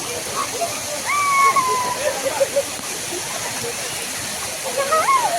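A child plays and splashes in a colony waterfall's rushing water after heavy rain, the steady roar of falling water filling the scene while voices chatter and call out over it.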